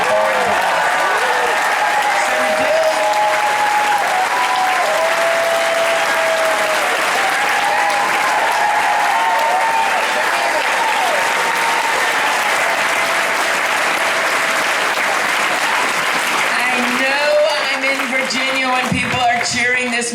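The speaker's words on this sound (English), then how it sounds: "Cheering this much for foreign policy" A crowd at a presidential candidate's campaign rally in Falls Church, Virginia claps and cheers for a long unbroken stretch, loud and continuous, with voices calling out inside the roar.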